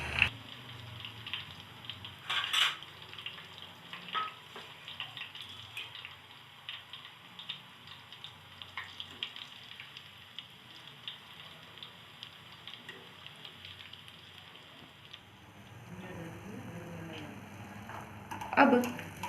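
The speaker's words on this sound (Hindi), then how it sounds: "पूरियां लो फ्लेम पर ही फ्राई करनी है।" Puris deep-fry in oil over a low gas flame, a faint steady sizzle and soft crackle with occasional louder pops and clinks, heard alone at a quiet level.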